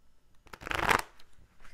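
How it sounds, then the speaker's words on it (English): Tarot cards shuffled by hand in one quick riffling burst of rapid papery flutters, close and fairly loud, with softer card handling before and after and no talk. "One more shuffle."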